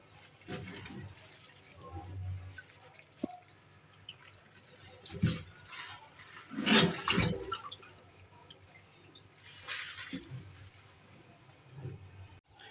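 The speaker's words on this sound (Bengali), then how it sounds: "এখন এগুলো সুন্দর করে ধোবো।" Cut eggplant and radish are washed in a basin of water, making scattered sloshing splashes and drips in short bursts between quiet pauses, close up.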